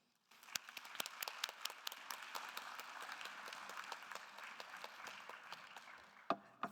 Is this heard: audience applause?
yes